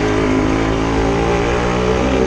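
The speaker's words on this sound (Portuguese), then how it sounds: "O barulho do escape é o melhor pra mim." An original Yamaha RD motorcycle's exhaust drones loud and close, its engine holding a steady, buzzing note with rich layered tones and no pause.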